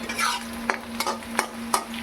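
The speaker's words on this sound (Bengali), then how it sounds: "পেঁয়াজটা ভাজা হয়ে যাচ্ছে লাল লাল হয়ে গেছে" Onions fry in oil in a pan for a pomfret fish curry, a soft continuous sizzle broken by about five sharp scraping stirs of a spatula, close up and with no talking.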